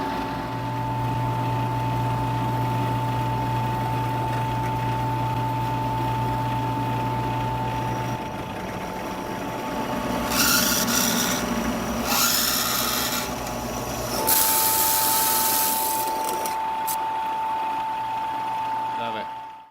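A WEN benchtop drill press runs with a steady motor whine, then the bit bites into a hand-held, unclamped piece in several rasping bursts that rise and fall over the hum.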